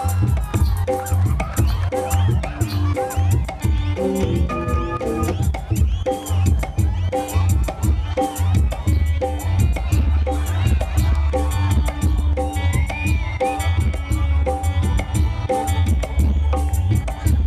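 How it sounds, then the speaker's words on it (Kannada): A crowd at a Christmas cultural program claps loudly and steadily to welcome the performer Umashree onto the stage, the applause running continuously over loud music with a strong beat. "ಜೋರಾದ ಕೈ ಚಪ್ಪಾಳೆಯೊಂದಿಗೆ ಸ್ವಾಗತಿಸಿ"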